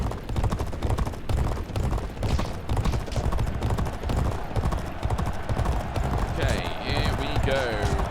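Galloping horse in a race in the video game G1 Jockey 4, a fast continuous pounding of hooves up close, with a voice talking over it and a brief whinny-like tone near the end.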